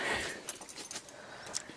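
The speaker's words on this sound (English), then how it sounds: "Got a lot of keys there." Keys jangle in a faint, scattered metallic clinking, with soft rustling and room noise in a run-down old house being renovated in Sicily.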